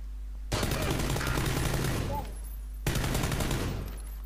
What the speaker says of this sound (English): I'm shooting someone.